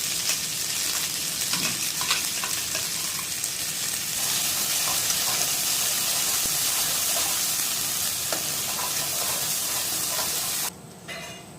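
A spiced paste heating and cooking in a pan, giving a loud, continuous close-up sizzle and crackle that runs steadily, then drops off abruptly near the end.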